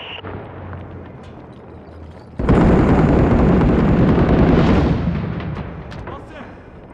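Mortar rounds slam down in Six Days in Fallujah: after a low rumble, a sudden loud blast erupts into a dense, roaring explosion that holds for a couple of seconds before fading, with voices talking over it.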